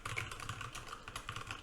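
Rapid typing on a computer keyboard, a quick run of close, light key clicks in an even irregular patter, quiet and with no voices.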